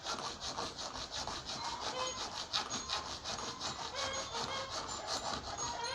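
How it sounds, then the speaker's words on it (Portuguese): A hand saw cuts slowly through a piece of aluminium shaft from a Buffalo/Stihl brush cutter's transmission, with steady, close, rhythmic rasping strokes that continue throughout and no talking. "Agora aqui tem que ir serrando devagar para não sair do alinhamento, nem ficar rebarba do alumínio."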